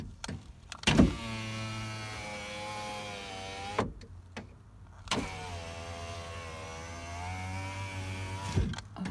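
Power window on the left front door of a 2012 Toyota RAV4 with a worn regulator, running up and down with a steady electric motor whine across two long strokes, each ending in a short thump or pop, close and clear with no talk.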